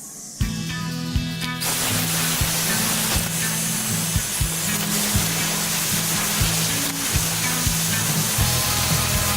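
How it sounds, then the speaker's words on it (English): Cream paint sprayed onto a plywood nested table with a hexagon design: a continuous close, loud hiss over a steady low pulsing hum from the sprayer, with no talking. "so let's get spraying."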